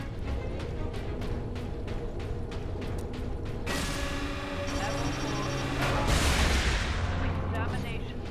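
An exit door mechanism in the Space Marine video game grinds and whirs open with a loud, sustained mechanical rush that follows a run of sharp, rhythmic clicks and game effects.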